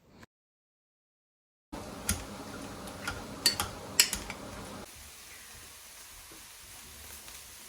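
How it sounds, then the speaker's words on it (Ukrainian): Quiet sizzling of chopped boiled cabbage and onion frying in a pan, with a few light clinks of utensils; the sizzle continues faintly after the clinks stop. "зараз дрібно її нарізаю і обсмажую з цибулькою"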